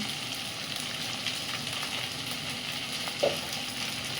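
Spiced ingredients mixed with salt in a hot frying pan give a steady, even sizzle with soft stirring scrapes throughout, plus one brief, slightly louder clink near the end.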